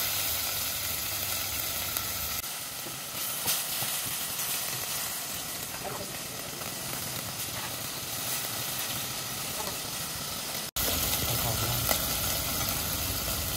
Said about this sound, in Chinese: 腌制好的猪肉稍微给它煎个两面金黄